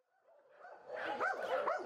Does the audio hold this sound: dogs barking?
yes